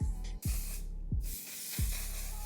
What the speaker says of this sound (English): they want me to get into the setting spray